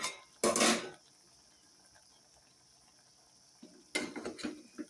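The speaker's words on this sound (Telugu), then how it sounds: "ఇప్పుడు ఒకసారి మూత తీసి చూసుకుందాము" A metal lid comes off a pot of chicken curry cooking with turmeric, giving a sharp clatter near the start. The pot then stays quiet before more metallic clanks and scraping near the end.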